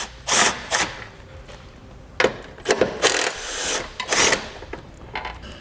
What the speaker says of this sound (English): You use an 18mm socket to remove both bolts.